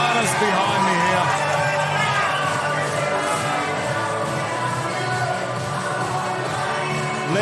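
A large crowd at an MMA fight night roars and cheers in a steady, dense wall of noise that never lets up, with a commentator talking over it.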